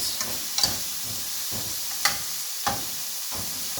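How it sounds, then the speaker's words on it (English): Leeks sautéing in a pan, a soft steady sizzle punctuated by periodic stirring scrapes and light taps of a utensil every half second or so, with no talking. "we're going to let the leeks saute and soften"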